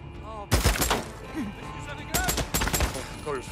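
Several loud bursts of gunfire in the game Days Gone crack out in quick clusters, with sharp impacts and brief electronic tones between them.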